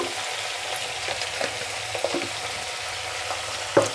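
Lentil and cluster bean stew being mixed in a pan with salt and turmeric, giving a soft steady sizzle with a few faint spoon scrapes and clicks, one sharper knock near the end.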